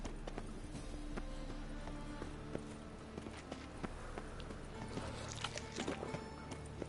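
Hooves of a horse clip-clop at a steady walking rhythm in the video game The Witcher 3, fairly faint and mixed with game music and ambient sounds.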